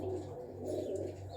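Domestic pigeons of the Gehna and Romeo breeds coo steadily at close range, a low, soft, rolling murmur repeating without pause and with no voices over it.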